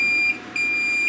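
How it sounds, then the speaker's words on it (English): A multimeter set to diode test mode gives a steady, loud, high electronic beep with brief dips, while a hot output transistor from an arcade monitor chassis is tested out of circuit. "we'll put it on diode mode, and you'll hear it beep"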